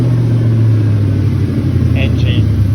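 The engine of a Factory Five Cobra Roadster fires and runs with a steady, loud low rumble up close, with a faint higher chirp partway through.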